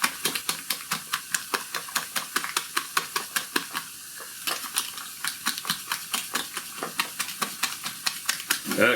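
Cream cheese is stirred into pasta sauce in a pan, giving a fast, regular run of wet clicking and scraping strokes with a faint sizzle underneath, close and fairly loud.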